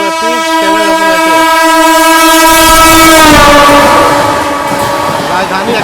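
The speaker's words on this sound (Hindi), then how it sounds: "देखिए आगे राजधानी हमें ओवरटेक करने" A Rajdhani Express train sounds a long, loud, sustained horn up close, then rushes past with a rumbling roar and rattling wheels.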